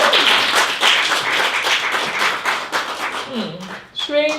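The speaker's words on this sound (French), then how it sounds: "Alors, on l'applaudit." A studio audience on a talk show claps in a dense burst of applause that holds steady, with voices rising over it near the end.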